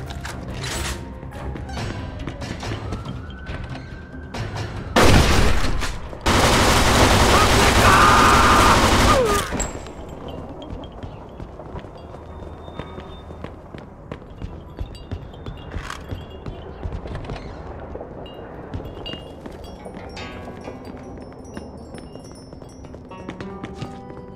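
Gunfire in the Mafia II video game, with scattered shots and one loud sustained burst of firing that stands out before fading into a quieter background of ambient game sound.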